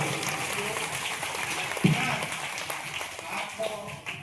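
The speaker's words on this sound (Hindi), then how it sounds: "जोरदार तालियां" Audience applause at a religious honoring ceremony in Lucknow, a continuous patter of clapping from a crowd that swells briefly near the middle, with a voice speaking over it.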